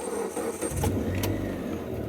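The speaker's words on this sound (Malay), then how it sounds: "So sekarang ni kita akan startkan enjin kereta saya." A parked car's engine runs at a steady low rumble throughout, fairly quiet, during a car battery check.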